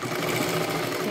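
A sewing machine runs steadily, stitching a tight seam on a lehenga latkan, its motor hum continuous and close throughout.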